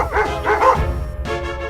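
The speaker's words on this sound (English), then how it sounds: "Suddenly, some dogs barked in the distance" Several dogs bark and yip in short overlapping bursts, fairly loud rather than far off, with a whimpering tone between barks.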